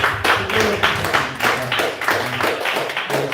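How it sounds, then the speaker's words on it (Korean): A congregation at a church service held in a school claps in thanks to the principal: scattered, uneven hand claps with a low murmur of voices underneath. "교장 선생님께 한번 감사와 사랑의 박수."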